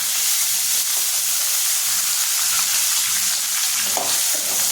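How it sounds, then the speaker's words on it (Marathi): Chopped potatoes fry and get stirred in hot oil with curry leaves for a Maharashtrian batata bhaji, a steady close sizzle with soft scraping strokes of a spatula running throughout. "बटाटे छानपैकी परतवून घ्यायचे"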